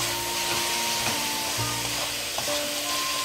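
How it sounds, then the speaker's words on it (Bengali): Onions sautéing in a pan over low to medium heat for chicken kosha make a soft, steady sizzle under a continuous background hum, with occasional light scrapes of stirring. "এই পেঁয়াজটা কষাতে কিন্তু 4 থেকে 5 মিনিট সময় লাগবে"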